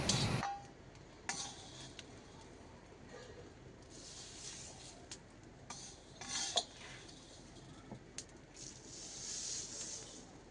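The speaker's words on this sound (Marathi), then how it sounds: "तेल न टाकता धने भाजून घ्यायचे आहेत" Coriander seeds dry roasting in a pan without oil, probably over a traditional wood-fired stove, with intermittent scraping and stirring strokes and light rattling over a low, steady background.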